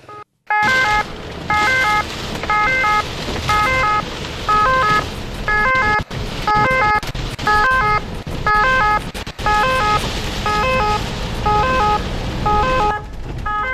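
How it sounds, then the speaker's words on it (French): A loud ambulance siren blares continuously, cycling through a repeating two-tone pattern, close and unbroken for over twelve seconds, as the ambulance drives into town in pouring rain. "Phare allumé et sirène hurlante, l'ambulance a fait son entrée en fanfare dans la ville"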